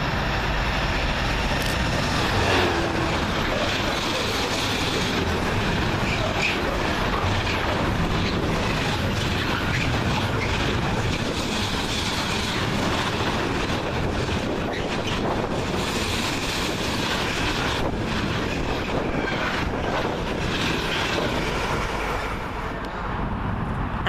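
A Class 66 diesel freight locomotive, 66719, hauls a long freight train through Milton Keynes Central station, a continuous loud rumble and rattle of wagons passing close by, with wind buffeting the microphone throughout.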